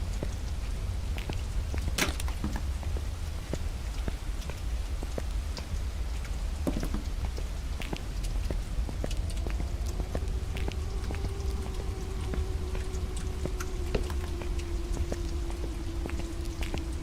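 Steady rain falls in a video game thunderstorm, with scattered sharp drops pattering close by, and a faint sustained tone drifts in during the second half.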